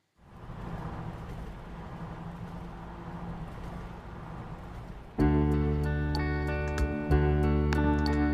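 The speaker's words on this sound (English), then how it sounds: "I think it's the sound of traffic" A low, steady rumble of far-off traffic fills the first several seconds, then a louder, tonal hum abruptly takes over.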